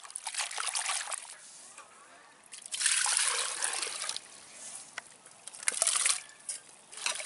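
Drumstick leaves swished and rinsed by hand in a vessel of water, with soft trickling and sloshing bursts that come and go, close but fairly quiet, with a voice talking over parts of it.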